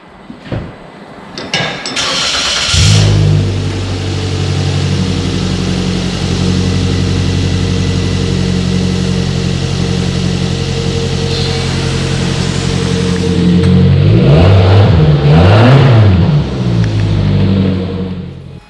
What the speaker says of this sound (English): we're getting ready to fire up the car